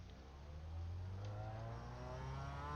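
Mazda MX-5 at full throttle on the Okayama circuit, steady mid-pitched engine drone climbing slowly in revs, close and continuous with no talk.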